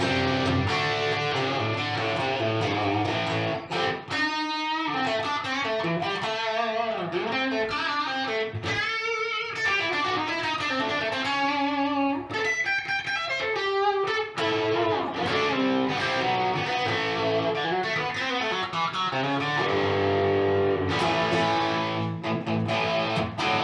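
Electric guitar played through a Metropoulos GPM 45-1796 emulation amp with the gain pulled back, heard as a continuous, loud, harmonically rich stream of chords and notes with brief pauses and no talking.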